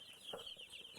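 Tiny three-day-old broiler chicks cheep steadily in high, thin repeated peeps, close by and fairly quiet, with no talking.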